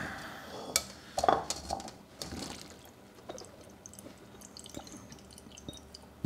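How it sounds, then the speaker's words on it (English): Water drains from salad vegetables through a kitchen strainer into a bowl, with a few sharp clinks of metal and dishes near the start, then a soft, faint trickle and drip. "You can hear it. You can hear all that water"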